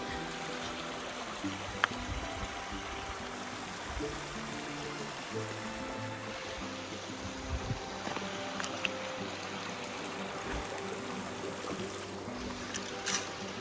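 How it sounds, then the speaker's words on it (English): A creek flowing along the Appalachian Trail, a faint, steady broadband rush of running water that continues evenly with no voices. "Another bridge, another creek."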